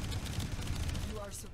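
Rapid, continuous gunfire rattles in Warframe, a steady dense crackle at moderate volume with a person talking over it throughout.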